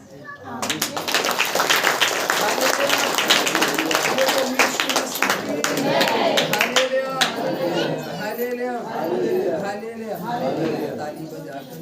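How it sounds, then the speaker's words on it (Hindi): A worship congregation claps together in a Hindi-language Christian prayer meeting, a dense run of sharp hand claps that thins toward the end, mixed with voices and chatter from the gathered crowd. "ताली बजाकर"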